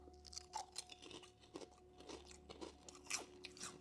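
Japanese steak-flavored potato chips are crunched up close, a steady series of crisp bites and chews, quiet and with no talk.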